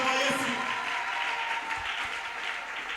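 Congregation applauding in a church during a worship service, a steady wash of clapping with crowd voices mixed in, loud and sustained throughout.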